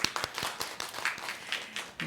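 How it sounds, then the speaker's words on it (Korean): A congregation at a Christmas church service gives a short burst of clapping, irregular hand claps fairly close, with a voice murmuring underneath. "모두 이 발표를 위해 수고하신 여러분들을 위해서 축하의 박수를 한번 보내겠습니다."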